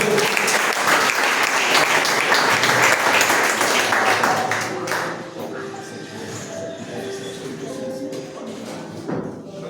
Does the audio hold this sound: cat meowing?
no